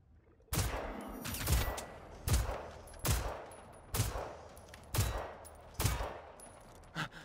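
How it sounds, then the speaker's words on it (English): Bursts of gunfire in the video game Generation Zero as a player shoots at a robot: six or seven sharp, loud volleys spaced about a second apart, each with a short ringing tail, with no talk over them. "I'm gonna shoot him in the head."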